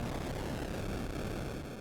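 Noisy retro explosion from an Atari 7800 motorcycle game, a continuous dense crackling roar of steady loudness filling the whole moment without pauses.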